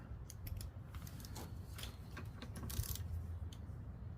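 A bolt is loosened on the auto choke atop the carburetor of a Toro lawn mower, likely with a 1/4-inch tool, giving faint metallic clicks and ratcheting taps over a low steady hum, with no speech.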